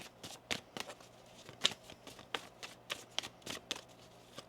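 Tarot cards shuffled by hand in a quiet room, a quick run of crisp, papery riffles and soft slaps repeating every half second or so, close and fairly faint with no voices.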